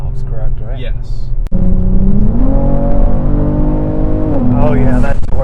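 Tuned Stage 2 Kia Stinger GT2 on KW coilovers with blow-off valves accelerates hard through a corner, its engine a loud, close, rising drone that climbs in pitch and then eases off, with people talking inside the car.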